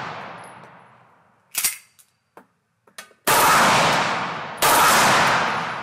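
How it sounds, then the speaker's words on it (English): A Beretta 93R pistol fires three-round bursts at a target 5 meters away, giving sharp cracks and short clusters of reports, then two loud, sustained blasts that slowly fade. "We're gonna go ahead and try shooting burst from here at 5 meters."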